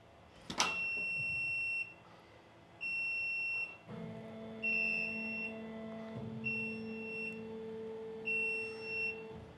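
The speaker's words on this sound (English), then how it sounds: "I can't figure out why this alarm is going off permanently" A large machine's electronic alarm sounds over and over, high steady beeps in repeated bursts joined partway through by a lower sustained tone, loud and close with no talking.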